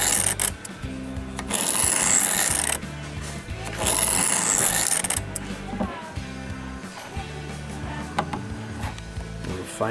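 A knife blade rubbed in steady strokes across a Work Sharp field sharpener's diamond plate, a close, continuous rasping scrape in long passes with brief pauses between strokes.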